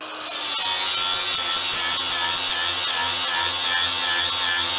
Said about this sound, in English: then you can use the angle grinder to get the bevel back and a sharp blade, just like this.